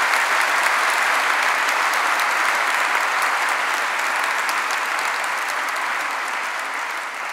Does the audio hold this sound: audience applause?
yes